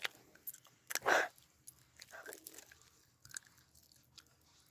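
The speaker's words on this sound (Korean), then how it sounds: "마이쮸마이쮸 먹도록 할 텐데" Close, quiet chewing of Maichew chewy candy, with soft sticky mouth sounds and one louder bite, plus faint murmurs in between.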